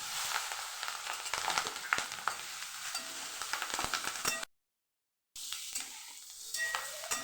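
Green chillies sizzling in hot tempering oil with mustard seeds, cumin, asafoetida and turmeric, a close, crackling fry with scraping stirs, cut by a brief silent gap before the sizzle resumes.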